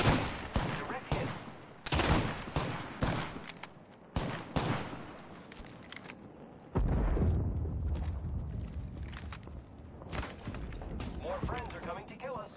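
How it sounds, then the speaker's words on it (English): Enemy gunfire in the battle royale shooter Apex Legends, with rapid bursts of automatic shots and sharp single cracks, loud and close, followed by a heavy rumbling blast and more scattered fire. "The enemies are shooting."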